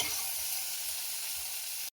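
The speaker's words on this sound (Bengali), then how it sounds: "বন্ধুরা আমার বটবটিগুলো ভাজা হয়ে গেছে, এবার আমি তুলে নেব" Pieces of elephant foot yam sizzle steadily in hot oil as they are lifted out of a frying pan. The frying is loud and continuous and stops abruptly at the end.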